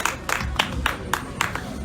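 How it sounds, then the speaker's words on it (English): Crowd clapping at an outdoor fundraising gathering at the Kalakuta Museum in Lagos, heard as a few sharp, evenly spaced claps in a quick rhythm, moderately faint over background noise. "Please clap for him."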